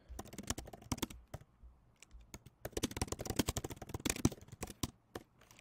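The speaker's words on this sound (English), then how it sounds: "So I type in that" A search phrase being typed on a computer keyboard: bursts of close, crisp key clicks in irregular runs with brief pauses, sounding alone without speech.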